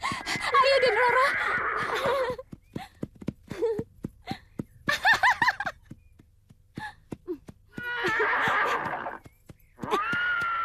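A horse whinnies in long harmonic bursts at several points, mixed with people talking in an outdoor scene from a period drama.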